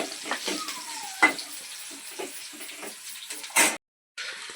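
Onion sautéing in a pan for a homestyle vegetable dish, with a soft, uneven sizzle broken by intermittent stirring scrapes and knocks, then a brief full silence near the end.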